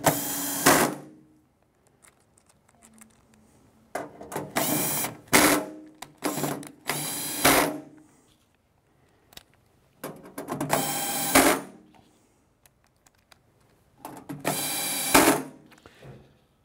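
Screw gun driving fasteners into a loft blower on an Artisan 2.5/3-e, heard as four separate loud bursts of whirring and ratcheting, each lasting about a second or two, with quiet gaps between them and no talking.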